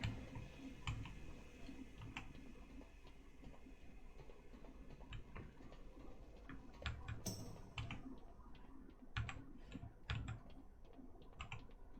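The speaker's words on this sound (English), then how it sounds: "when I hit my keyboard, it is making sounds like a keyboard sound" Computer keyboard keys clacking in bursts of uneven taps during World of Warcraft play, fairly quiet and close, with no talking over them.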